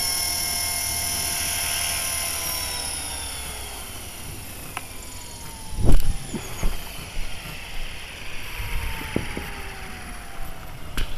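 An LH-450bb radio-controlled helicopter with its rotor whining and winding down after landing, a steady high-pitched tone and falling whine close by, with thumps and clatter from the bumpy touchdown partway through.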